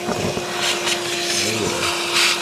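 Compressed air blasts dust off a Mercedes-Benz W124 500E, a hissy rushing stream rising and falling in short bursts over a steady mechanical hum.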